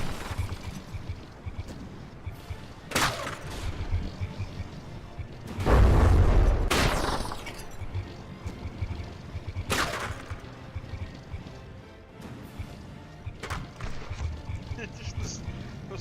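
Shells from a From The Depths naval battle striking and glancing off the frigate Tiny Tim, sharp booms and cracks at irregular intervals, one heavier rumbling burst mid-way, amid ongoing game combat noise with a voice talking over it.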